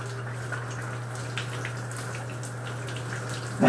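Water runs from a shower at home in a steady hiss with a low hum beneath it, constant throughout, ending in a brief louder knock at the close.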